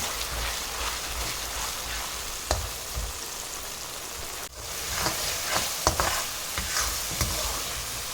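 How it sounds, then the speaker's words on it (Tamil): Ginger garlic paste sautéing in a pan for a coriander crab masala, giving a steady dense sizzle broken by occasional scrapes and stirring clicks, close up with no talking. "இஞ்சி பூண்டு பேஸ்ட் நல்லா வதங்கிடுச்சு"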